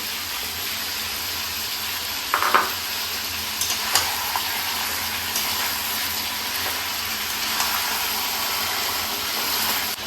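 Spice paste and two chopped tomatoes hit hot oil in a mutton curry pot, a steady close sizzle with a few sharper spits and stirring scrapes.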